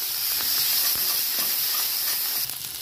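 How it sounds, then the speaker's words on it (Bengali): Cauliflower and shrimp fry in a pan with turmeric, cumin powder and coriander leaves, giving a steady, close, dense sizzle with faint scraping from stirring throughout. "ভালো করে নেড়ে চেড়ে হালকা করে একটু ভেজে নেব।"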